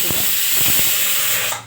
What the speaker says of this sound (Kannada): ಪಕ್ಕದ ಸ್ಟವಲ್ಲೇ ರೈಸ್ ಕಿಟ್ಟಿದ್ನಲ್ಲ, ಅದು ವಿಷಲ್ ಆಗ್ತಾಯಿದೆ